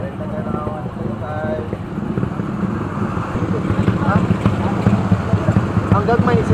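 A motorcycle engine hums steadily and grows slightly louder, with people talking over it.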